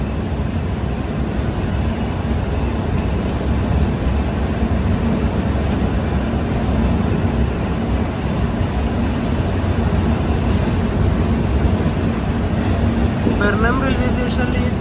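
A Konkan Railway train running through the lit Pernem tunnel makes a continuous, loud, enclosed roar and rumble that stays steady throughout.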